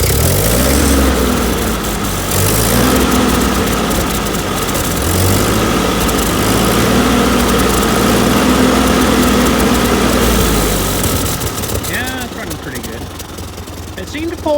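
A Ford 2N tractor engine running after plow day, a loud low chugging idle with rhythmic pulses and vibration, quieting slightly near the end as a voice comes in briefly.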